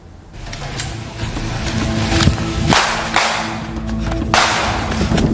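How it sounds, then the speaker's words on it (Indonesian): Police fire warning shots into the air during a raid on an outdoor cockfighting gambling arena in Jeneponto. Several sharp cracks ring out at irregular intervals over a noisy, rumbling background. "Tembakan ke udara dilepaskan tim Pegasus unit Resmob Satreskrim Polres Jeneponto"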